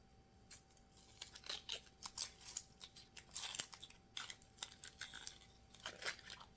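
Close, crisp tearing and snapping as the papery outer layer is peeled off a vegetable for fajitas, irregular bursts in a quiet room with no talking.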